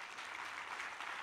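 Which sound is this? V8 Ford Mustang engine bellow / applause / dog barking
applause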